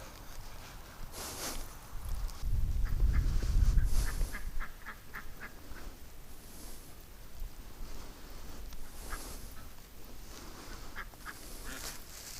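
Ducks kept by a homeless shelter quack in short repeated bursts, moderately near and fairly quiet, against outdoor background noise with a low rumble early on and no talk.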